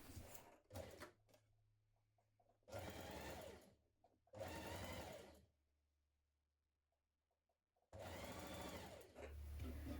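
A sewing machine stitches a dart in dress fabric in three or four short, steady runs of even whirring, each stopping in quiet. It is close and fairly quiet, with no talking.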